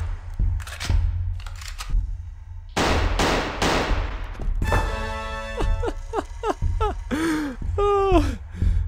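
Sharp gunshots crack in the video game Backrooms Buff Doge Horror, several separate bursts of shots spaced out across the stretch, followed by tonal, squealing game sounds and yelps.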